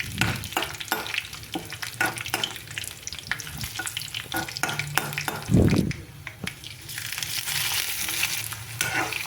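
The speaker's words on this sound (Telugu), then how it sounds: "ఈ ఆనియన్ మొత్తం పూర్తిగా గోల్డెన్ కలర్ వచ్చేంత వరకు వేయించండి" Onion fries in hot oil with garlic, curry leaves and green chillies, making a dense close sizzle. Frequent sharp crackles and stirring scrapes run through it, with a heavier clatter partway through.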